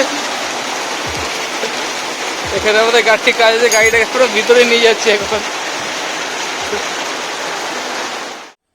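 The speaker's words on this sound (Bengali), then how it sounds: "খুব জোরে বৃষ্টি এসে গেছে" Heavy rain pours down steadily outdoors, a dense wide hiss that holds throughout while someone talks over it briefly in the middle.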